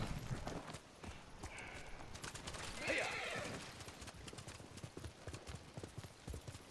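Horses' hooves clip-clop in a steady gallop in the video game Ghost of Tsushima, with a horse neighing loudly midway amid rustling movement.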